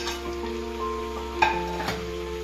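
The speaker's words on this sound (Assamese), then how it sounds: "মাংস, মছলা আৰু আলু ধুনীয়াকৈ মিক্স হ'বলৈ দিম। কিছু সময় এনেকৈ ভাজিম।" Chicken pieces, spices and cut potatoes frying in a pan for a home-style Assamese chicken curry, stirred with a steady sizzle and a couple of brief utensil scrapes over a faint background hum.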